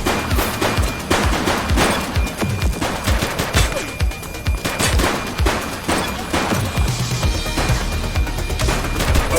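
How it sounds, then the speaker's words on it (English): Gunfire in the police simulation game Precinct crackles as loud, dense fusillades of rapid shots, the bursts overlapping and continuing almost without pause. "He's shooting!"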